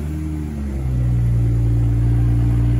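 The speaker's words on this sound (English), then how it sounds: "the remote engine start is going to fire up for you" A 2022 BMW X3 M40i fires up by remote start, its engine catching with a brief rising rev and then settling into a loud, steady, deep idle rumble close by.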